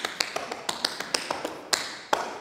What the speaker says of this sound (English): my last cramp roll, I would just syncopate the sounds, do them all together instead of alternating my feet